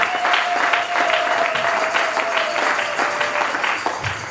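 Church congregation applauding during a worship service, steady dense clapping filling the whole span at a fairly loud, even level.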